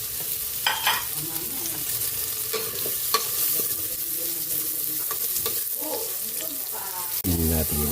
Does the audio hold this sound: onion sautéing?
yes